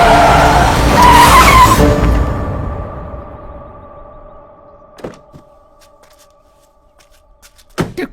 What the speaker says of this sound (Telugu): ఎదురు కారు వస్తుందమ్మా.